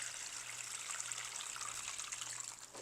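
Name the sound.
water filling a container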